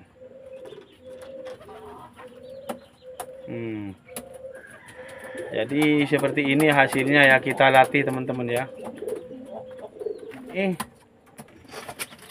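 Mating pigeons coo in soft repeated bursts close by, with a stretch of louder rolling coos in the middle while a person talks over them.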